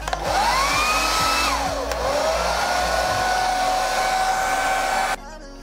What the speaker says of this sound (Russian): Не берите фен без разрешения мамы, а то еще наругает.